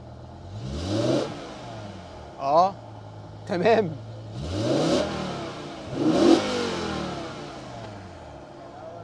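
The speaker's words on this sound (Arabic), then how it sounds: "تعال نسمع الصوت بقى من العادم الاكزوست نوت" The V10 engine of a BMW M5 E60 revs repeatedly through its exhaust, several sharp surging blips rising and falling over a low idle rumble, with brief speech between.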